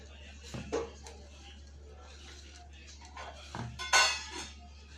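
Coarsely crushed dry-fruit ingredients for fig laddus are stirred in a pan, giving a few soft scrapes and light metallic clinks from a spoon, fairly quiet, with a voice briefly audible.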